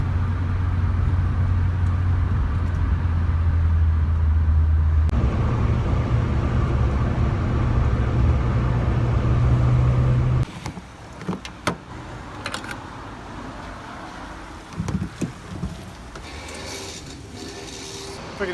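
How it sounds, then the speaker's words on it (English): Peugeot 205 GTI track car driving, a steady loud engine drone with low harmonic hum that shifts up in pitch partway through, then cuts to quieter road noise with scattered knocks and bumps. "Nothing more satisfying than being behind the wheel of my 205 GTI."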